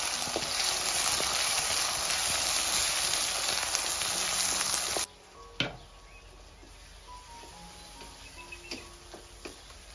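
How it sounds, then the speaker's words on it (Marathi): Chopped onion frying in hot oil for zunka, a loud dense sizzle for about five seconds that then falls to a quiet hiss with scattered spoon taps and clicks. "तर कांदा आपल्याला लाल तांबूस रंग येईपर्यंत परतून घ्यायचा आहे।"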